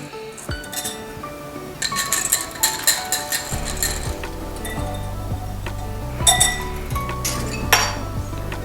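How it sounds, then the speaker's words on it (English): Granulated sugar and cornstarch go into a mixing bowl while baking ube cheese mamon, heard as a run of clear clinks and glassy taps of utensils against the bowl, with brief pouring rustles and a low steady hum beneath. "we have here a mixing bowl. We'll put in granulated sugar, cornstarch,"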